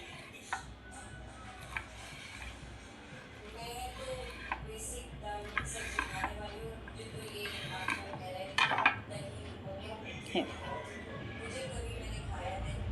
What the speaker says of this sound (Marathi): आता मी हिला असं स्क्वेअरमध्ये कट करणार आहे